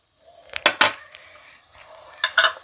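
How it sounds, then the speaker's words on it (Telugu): A tomato, onion, cashew and clove paste being fried in a pan, with a utensil scraping and clinking against the metal in several quick bursts over a faint sizzle. "టమాటా ఉల్లిపాయ రెండు జీడిపప్పులు లవంగాయలు అన్నీ వేసుకుని అవి కూడా వేసేసుకుని వేపుకోవాలి చక్క దోరగా ఏగనివ్వాలి"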